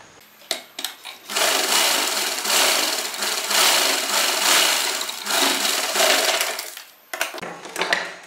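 A sewing machine stitches a short jacket in a steady, close whirring run of several seconds, stopping briefly once, with light clicks and handling noises before and after.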